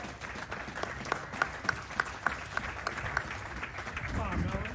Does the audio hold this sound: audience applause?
yes